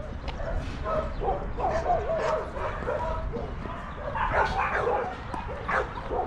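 Several dogs at an animal rescue pound in Paphos, Cyprus bark, yip and whimper together in a busy, overlapping chorus, close and continuous.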